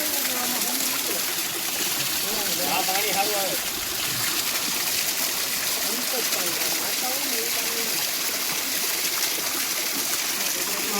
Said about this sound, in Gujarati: પાણી જે ઝરણામાંથી વહે છે